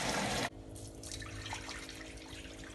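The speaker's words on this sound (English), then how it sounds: "Just swish it around with your hand, get all the impurities out." Hand swishing lentils in a bowl of water to rinse off dirt, a loud splash of water at the start followed by steady soft sloshing and trickling, close and alone.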